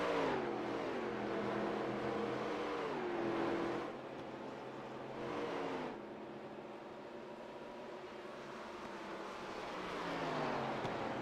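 Stock race car engine in a racing video game, idling down and droning as the car slows onto pit road at Atlanta, with pitch sliding down and a swell of revs midway, moderately loud and steady.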